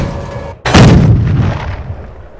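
A loud bomb explosion in the Army Men video game bursts in after a brief quiet, followed by a long rumbling decay with scattered gunfire-like cracks.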